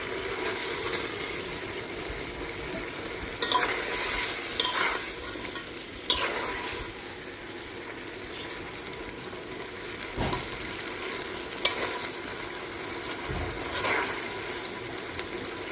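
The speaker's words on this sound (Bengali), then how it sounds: "এখন দিয়ে দেবো ভাজা মাছ।" Fried fish simmering in a milk curry in a pan, stirred with a soft scraping rhythm and several sharper clinks of a spoon against the pot over a steady bubbling sizzle.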